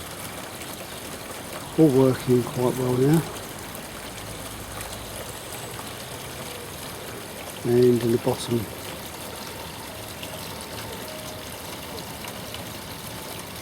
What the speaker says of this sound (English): here's another view of the waterfall